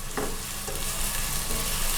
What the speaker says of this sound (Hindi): अब हम इसको भूनते हैं अंटिल इट्स गोल्डन ब्राउन